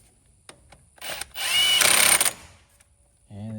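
A power tool drives a 10 mm bolt tight on a bracket during a vehicle mod, a short burst of whirring near the mic, with clicks before it and a voice starting at the end.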